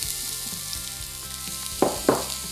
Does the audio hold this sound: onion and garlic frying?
yes